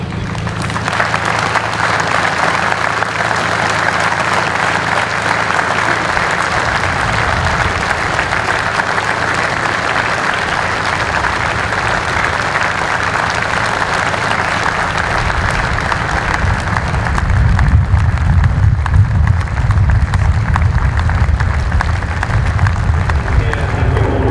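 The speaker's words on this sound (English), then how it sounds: "we'll have 1 minute's applause for Reg Craven, Johnny Thompson, Malcolm Flood, and Kevin Holden" A speedway crowd at the Wimborne Road circuit gives a minute of sustained applause for late riders, a steady loud wash of clapping from many hands that swells slightly toward the end.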